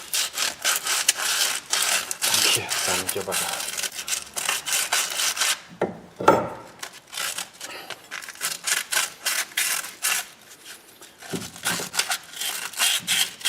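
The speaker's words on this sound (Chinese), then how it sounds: "咱们直接用砂纸把上面这个轴承套里面这个锈呢，给它直接磨一下算了" Sandpaper scrubs rust from inside the front wheel bearing sleeve of a Chevrolet Cruze, making rapid, rhythmic, gritty scraping strokes that continue with a brief pause. Someone speaks briefly.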